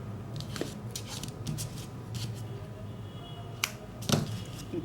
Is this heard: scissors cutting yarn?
yes